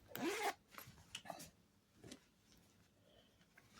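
A metal zipper on the waistband of men's trousers is slid during a sewing repair, a quick rasping zip followed by a few softer clicks and rubs, close and quiet with no talk.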